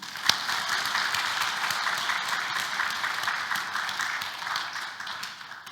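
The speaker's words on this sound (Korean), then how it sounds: "이렇게 좋은 축복 주신 하나님 앞에 진정한 감사, 넘치는 감사를 드리고자 원하는 분들은 한번 박수 한번 해보시죠." A congregation claps at a Korean Thanksgiving Sunday worship service, a sustained, even wash of applause from many hands with no speech over it.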